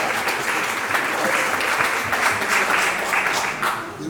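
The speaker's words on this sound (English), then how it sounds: "Give him a round of applause" Audience applause at a swing dance history talk, dense and continuous for the whole stretch, loud and close with no pauses.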